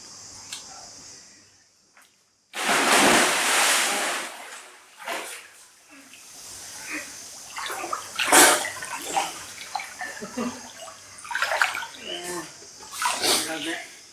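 An otter splashing and diving into water, with a sudden loud burst of churning splashes followed by repeated smaller splashes and drips, close by, while people talk throughout.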